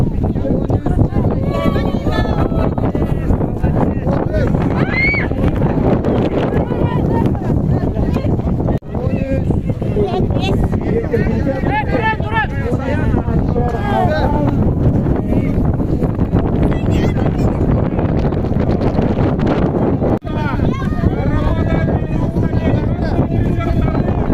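Strong gusting wind with blowing snow at the finish of a cross-country ski race, a loud continuous roar buffeting the microphone, with voices talking over it throughout.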